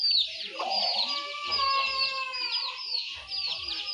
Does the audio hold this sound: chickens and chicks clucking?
yes